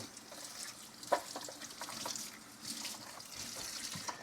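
Water trickles and splashes steadily as a washing machine detergent drawer caked with detergent is rinsed, with a sharp knock early on and small clatters throughout.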